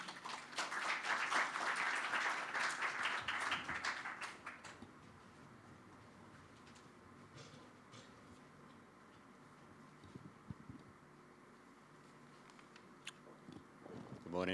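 Applause welcomes the chairman of SILA at the GC REAIM symposium, starting as a fairly faint burst of many hands clapping that fades out after about four seconds, leaving quiet room tone with scattered small noises.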